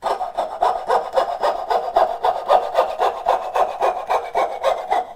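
A hand saw cuts a dovetail joint in wood, fast regular push strokes rasping in a tight, even rhythm, close and clear with no talk.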